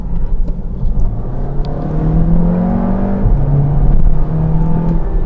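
An Audi TT 8S roadster engine revs and accelerates, its rising drone loud and close, with a steady roar building over several seconds.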